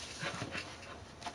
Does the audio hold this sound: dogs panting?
yes